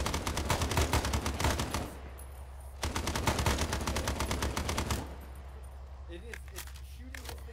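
Rapid automatic gunfire in ArmA S.O.G. Prairie Fire comes in two long sustained bursts, loud and close with a dense rattling rhythm, separated by brief pauses, and a voice talks lightly alongside.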